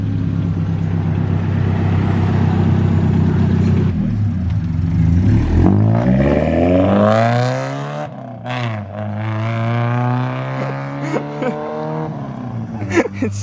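Loud, close engine of a Nissan 300ZX roaring to life and revving hard, with rising and falling pitch sweeps and a few sharp blips near the end.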